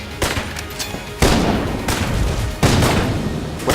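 Video game gunfire in Enter the Gungeon: a few bursts of loud, crackling shots with booming tails, overlapping into a dense, noisy barrage.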